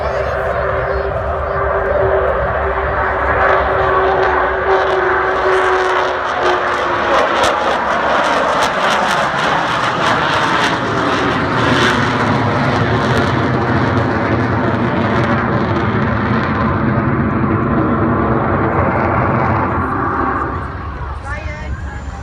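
The Avro Vulcan XH558 delta-wing bomber makes its final flypast, a loud, sustained jet roar whose pitch sweeps downward as it passes overhead, holding strong for about twenty seconds before easing off at the end.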